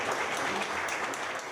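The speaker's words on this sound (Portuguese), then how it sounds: "Ao final da fala, o advogado foi aplaudido por apoiadores do governador" Supporters of a state governor applaud a lawyer after his speech at an impeachment hearing, a brief, dense wash of clapping heard from a moderate distance.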